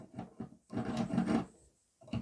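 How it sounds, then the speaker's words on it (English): A hacksaw works on wire held in a vise, heard as two quick rasping strokes, then a longer drawn stroke, and a final short stroke, close and fairly quiet with no talk. "to cut this off, I could use the hacksaw, put this in the vise and"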